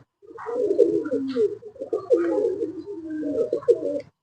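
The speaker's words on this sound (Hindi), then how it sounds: "देखें माशाल्लाह बहुत अंटीक कबूतर है जी" Antique breeder pigeons coo up close in a series of soft, rolling throaty phrases with brief pauses between them, heard on their own without talk.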